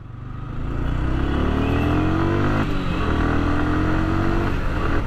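Yamaha R15 V3 motorcycle engine pulling steadily while riding, its rising rev tone climbing through the gears with a brief dip at a shift, loud and continuous with wind noise, no talking.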